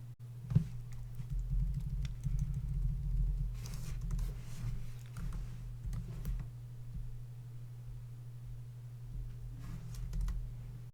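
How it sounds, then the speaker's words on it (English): Code being typed on a computer keyboard in a dark room: soft, irregular clusters of key clicks over a steady low electrical hum, heard close and fairly quiet. "typing code"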